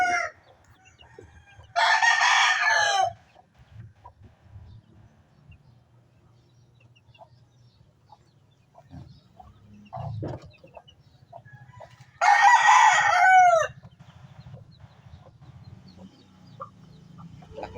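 An eight-year-old gamefowl brood rooster crows twice, loud and close, with long separated calls, while soft clucking and low farmyard rumble fill the gaps.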